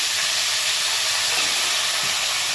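Cauliflower pieces fry in hot oil, a dense, continuous loud sizzle with an even roar throughout and no voices over it.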